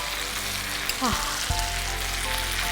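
Chicken masala fries in a Milkymist Magic Oven, giving a dense, steady sizzle that runs under a person talking, with a brief stir partway through.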